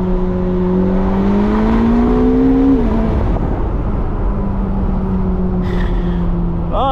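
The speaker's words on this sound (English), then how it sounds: "Electric motors just gripping in, pulling you, and then that twin turbo V8 shoving the back end." A Ferrari SF90 Spider, a hybrid with electric motors and a twin-turbo V8, accelerates hard from inside the cabin, its engine note climbing steadily in pitch before a shift and continuing under a loud, sustained roar.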